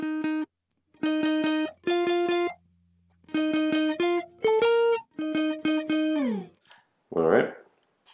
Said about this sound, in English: we are going to turn on the pog, which has a high emphasis on the high octave